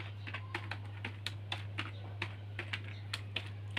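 Code is typed on a computer keyboard while programming an Arduino sketch, giving quiet, irregular key clicks in a steady stream close to the microphone over a constant low electrical hum.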